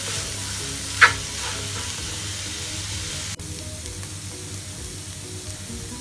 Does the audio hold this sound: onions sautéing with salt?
yes